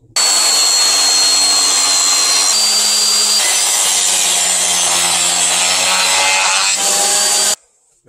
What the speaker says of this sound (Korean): 테이블소로 이용하시면 됩니다.